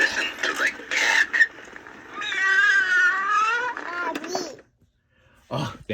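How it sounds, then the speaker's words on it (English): Cat meowing and caterwauling in several drawn-out, wavering cries, loud and close, with short pauses and a brief silence between calls. "Listen to the cat."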